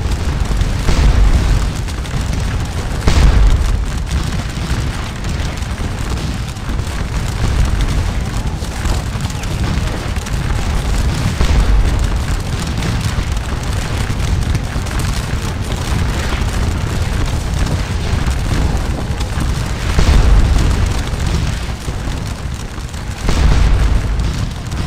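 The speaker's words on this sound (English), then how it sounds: "the chateau's new garrison opens fire as well" Musket volleys from a chateau garrison in the Napoleonic battle game Scourge of War: Waterloo: heavy booms recur every few seconds over a continuous roar of distant gunfire and battle noise.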